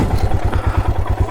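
A Himalayan 411cc motorcycle idles on an off-road trail, a loud close low rhythmic engine thump holding steady, with faint clatter over it.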